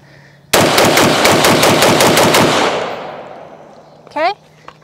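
An AR-15 rifle with a Midwest Industries ultra lightweight Criterion barrel fires a rapid string of about a dozen close, loud, evenly spaced shots at a range, with echo trailing off and a brief voice after.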